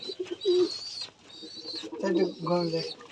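Giribaz pigeons coo in soft, throaty bursts close by at a pigeon farm in Rajshahi, several calls overlapping within a few seconds, with faint higher chirps in the background.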